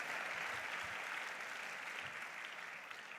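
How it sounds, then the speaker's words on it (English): Audience applause at a regional education and leadership congress, a steady wash of clapping that tapers slightly toward the end. "please let's give one more hand of applause"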